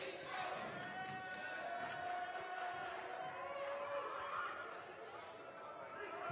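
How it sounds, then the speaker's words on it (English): A crowd chants defense at a girls high school basketball game between Oak Grove and James Lick, heard as a steady sustained roar of voices with rhythmic chanting in a gym. "You can hear the defense chants emanating from the crowd tonight."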